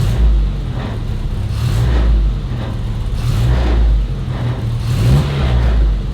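A 1963 Mini Cooper with its 997 engine revs up close and loud, the tone climbing and falling in about three repeated throttle blips over a steady idle.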